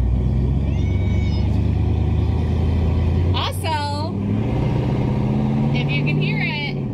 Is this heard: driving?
yes